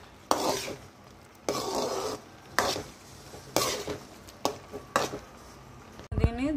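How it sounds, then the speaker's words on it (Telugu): A milk and sugar sweet mixture for homemade kalakand being stirred in a pan, with a spoon scraping in several separate bursts of a second or so, separated by short pauses, close and fairly loud. "నేనైతే బాగా మిక్స్ చేసుకుందాం."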